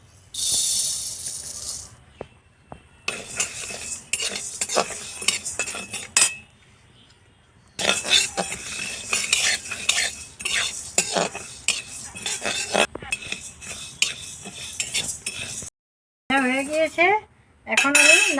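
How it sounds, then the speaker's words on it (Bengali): Mung dal is dry-fried in a karahi, with repeated close scraping and clinking of a metal spatula stirring the grains in uneven bursts separated by brief pauses. "ফার্স্টে মুগ ডাল কটা ভেজে নিই"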